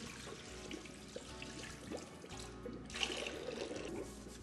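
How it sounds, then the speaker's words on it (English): Two gallons of cool, clean water pour into the mix hopper of a Taylor C706/C707 soft-serve freezer, a continuous faint splashing rush with no voices. "Next, pour 2 gallons of cool, clean water into the mix hopper."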